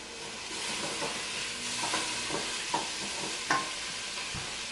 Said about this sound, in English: So I'm just going to stir my onions.